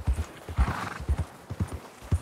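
Horse hooves clip-clop in a steady, close rhythm with a short whinny in Red Dead Redemption 2, the footfalls repeating evenly through a brief stretch of Western open-world game audio.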